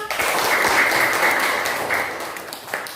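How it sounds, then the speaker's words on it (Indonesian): A classroom of students claps for their classmates after a group presentation, a broad, continuous wash of applause that swells early, stays full and tapers slightly near the end. "Tepuk tangan dong."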